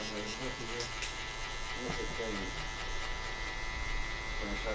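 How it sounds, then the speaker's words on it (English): An Andis cordless outliner buzzes steadily while trimming a hairline in a barbershop, with a constant close electric hum running under a voice. "So then I go in with my Andis cordless outliner."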